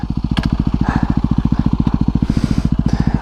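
A motorcycle engine fitted with aftermarket Go Race suspension thumps out a steady, rapid, loud beat while the bike is ridden, heard close with no talk over it.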